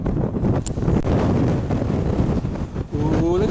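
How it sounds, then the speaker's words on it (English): Strong wind buffets the microphone out in an open field during metal detecting, a loud, constant low rumble and roar with gusty swells. A few faint tones and muffled sounds come through under the wind. "that wind is blooming awful"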